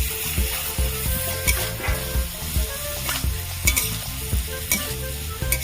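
Cut eggplant pieces fry in a spiced gravy for bhangon fish curry, with a steady loud sizzle and repeated scraping stirs of a spoon against the pan, close and continuous, no voices.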